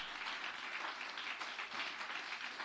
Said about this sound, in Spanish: Dele ese aplauso a Él.